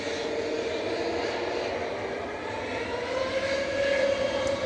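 An EasyJet jet airliner departs from Manchester Airport, a steady roaring rumble with a rising whine that grows slightly louder toward the end, heard at a distance with no talk.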